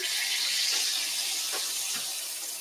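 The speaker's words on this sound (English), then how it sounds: "Got that sizzle." Steady, bright hiss of garlic sizzling in hot vegetable oil, close and continuous, with a few faint clinks underneath.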